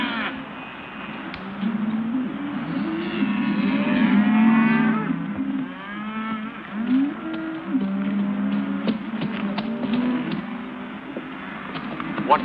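Cattle low and moo repeatedly in a herd scene from a 1951 Western, several drawn-out calls overlapping at moderate distance over a rumbling background.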